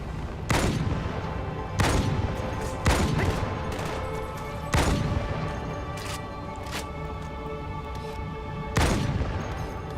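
Loud, sharp sniper gunshots in Halo 2 Anniversary fire one at a time at irregular intervals, each cracking sharply and then ringing out, over a steady background hum.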